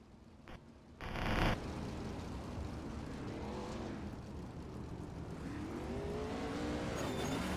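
Race car engine in a sim racing series at Williams Grove at night, a short loud burst followed by a steady engine roar with rising pitch sweeps, fairly faint overall, no talk.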